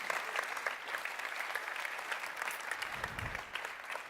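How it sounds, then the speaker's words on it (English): A large audience at the live world premiere of the Porsche 911 992 in Los Angeles keeps up steady, fairly distant applause, with a low thump near the end. "So a bit of a round of applause, please, for Army."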